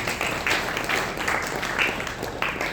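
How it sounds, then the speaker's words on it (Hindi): Audience at an Arya Samaj gathering in Model Town clapping loudly together, a dense steady burst of applause with faint rhythmic pulses that fills the whole moment without any speech over it. "इनके लिए भी एक बार जोरदार ताली बजा दीजिए"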